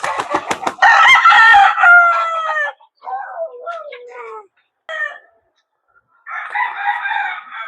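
Loud, close chicken squawks and clucking with a rapid burst of cackles, broken by pauses, then more clucking at the end.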